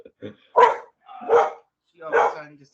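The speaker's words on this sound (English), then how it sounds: "Sorry, my dog." A dog barks three times in close succession, loud and near, with a few small yips just before, heard in a home setting during an online meeting.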